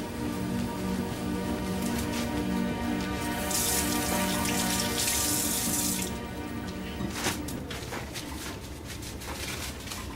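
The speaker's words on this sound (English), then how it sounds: "Let me just wash up." Hands are washed under a running tap in a hospital staff area: a steady, close rush of water streams continuously into a sink, swelling louder and brighter in the middle before easing back, with no voices.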